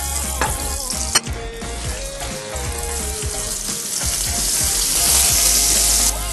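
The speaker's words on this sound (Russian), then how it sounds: "на вот этой сковородке, вот этим же маслом мы обжариваем гребешки" Scallops fry in oil in a pan, giving a steady, dense sizzle and crackle with occasional clinks and stirring noises, close and continuous throughout.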